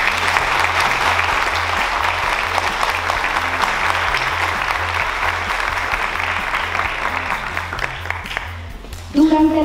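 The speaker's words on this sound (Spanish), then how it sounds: "Démosle un fuerte aplauso." A large crowd at a civic ceremony in Bogotá gives strong, sustained applause. The dense clapping is loud and steady for about nine seconds, with an amplified voice starting to speak just as it fades.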